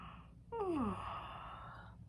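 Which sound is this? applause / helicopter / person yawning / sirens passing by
person yawning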